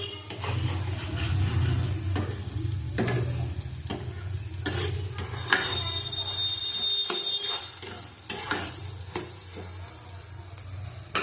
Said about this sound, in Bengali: আমি ডালটা দিয়ে দেবো